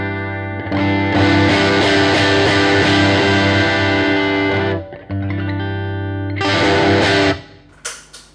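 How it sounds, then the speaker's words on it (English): Electric guitar played through distortion, thick sustained chords ringing loud and saturated, cutting off briefly near the middle before another strummed burst and a few short decaying hits at the end; no talking. "When I step my distortion and I play with distortion"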